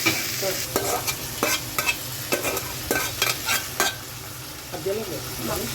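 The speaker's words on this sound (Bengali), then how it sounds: "বিকেলের নাস্তার জন্য হালকা একটু ছোলা ভুনা করে নিচ্ছি" Chickpeas (chola) being stir-fried in a home kitchen pan, with repeated spatula scrapes and clacks in an irregular rhythm over a steady low sizzle, close and clear.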